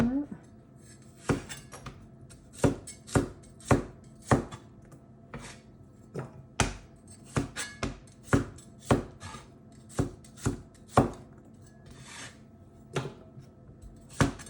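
Crisp knife strokes chopping cucumber on a cutting board, a steady series of about twenty sharp taps at an uneven kitchen rhythm, close and fairly quiet with a little background clatter.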